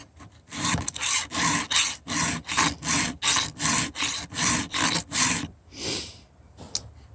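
A chainsaw chain tooth is hand filed in a steady run of about fourteen rasping strokes, each a loud, close scrape, with a short pause and a last faint stroke at the end.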